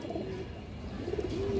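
A pure-bred male Maxi Giribaz pigeon coos in short, soft low notes, fairly close, with a fuller, longer coo near the end and light background rustle.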